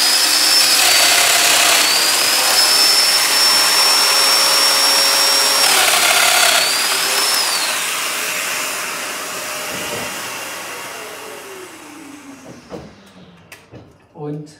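A Festool Domino DF 500/700 joiner whirs at a high, steady pitch with dust extraction running, the motor changing tone partway through before spinning down, leaving brief knocks and clatter near the end.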